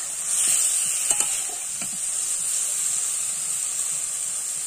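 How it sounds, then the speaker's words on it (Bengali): Tomatoes being sautéed in a pan for a sweet, sour and spicy Bengali tomato chutney give off a steady, moderately loud sizzle, with a few soft scraping stirs near the start. "আমি থাকবো যতক্ষণ না টমেটোগুলো আরেকটু কষাই হচ্ছে।"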